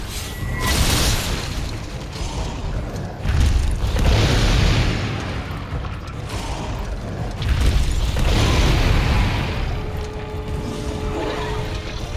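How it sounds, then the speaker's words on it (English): Explosions in the video game Monster Hunter World, a run of loud, heavy booms rolling one after another with deep rumbling bursts and low-frequency blasts that fill the whole stretch. "wish you will hurt yourself from those explosions."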